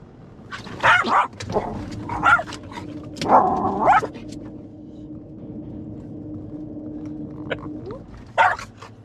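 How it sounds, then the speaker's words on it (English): A dog barks in several loud bursts close by, with pauses between them and a steady low drone in the background. "he liked barking at girdered bridges"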